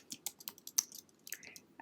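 Computer keyboard typing sounds as a string of light, quick, irregular key clicks close to the microphone, a dozen or so taps with brief pauses, and no talking.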